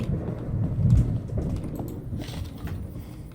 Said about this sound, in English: Got some thunder going outside.